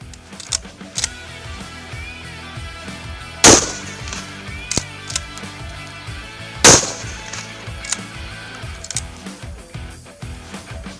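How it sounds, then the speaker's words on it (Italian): A 12-gauge shotgun fires Fiocchi slug and demolition cartridges, two sharp loud blasts a few seconds apart amid lighter clicks and handling clatter. "Anche in questo caso spareremo prima la slag e poi la demolizione."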